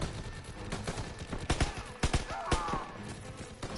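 Gunfire in Call of Duty WWII: several sharp shots crack through a dense wartime battle bed, with sporadic bursts near the middle and voices talking over the din.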